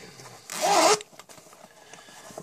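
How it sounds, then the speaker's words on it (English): A single quick pull of a pencil case zipper, close and crisp, lasting about half a second, followed by faint handling noises. "it's like a little nerdy pencil case with a zipper in it"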